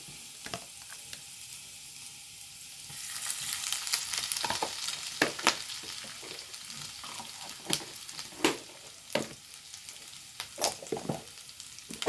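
Ginger and garlic frying in a pan, a continuous sizzle that grows louder partway through, broken by sharp scraping and stirring clicks at irregular intervals, with no voices.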